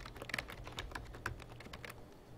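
Fast, continuous typing on a computer keyboard while writing code, a close, rapid patter of light key clicks with a few louder strikes, then slowing near the end.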